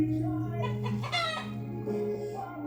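A chicken clucks and squawks close by in a short burst over a steady background hum.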